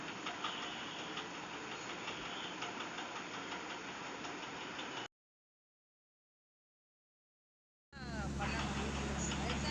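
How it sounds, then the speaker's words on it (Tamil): Motor boat engine chugging steadily as the boat sets out on a lake in Hyderabad, a continuous mid-level drone that cuts out briefly and then returns louder and closer. "இப்போ போட்டு வந்து கிளம்பியாச்சு"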